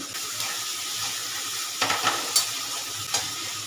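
Ingredients fry in ghee for soybean malai kofta, a soft continuous sizzle with stirring scrapes and a few sharper clinks near the end, close and moderately quiet, no speech.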